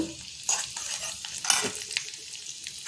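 Green chillies, finely chopped ginger and sesame seeds are mixed in a bowl, giving soft, close scraping and stirring strokes in short bursts, with no talking.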